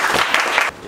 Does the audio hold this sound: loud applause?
yes